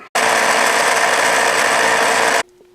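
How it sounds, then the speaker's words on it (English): A drill bores out a part on a Lil Indian Model 700 minibike, a steady, loud whirring grind lasting a couple of seconds alone, then cutting off abruptly. "So we're going to drill that out a little bit."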